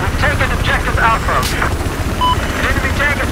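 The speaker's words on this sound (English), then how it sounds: "Jihad chopper just spotted." A helicopter in the video game Battlefield 4 drones loudly and steadily through a busy combat scene with gunfire, while players talk over it.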